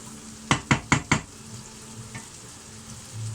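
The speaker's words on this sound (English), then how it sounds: "So we got them onions slowly cooking in now" Onions sizzle in a pan with garlic and chives while a utensil scrapes and knocks against it in four quick, close strokes, and a gentle frying hiss continues underneath.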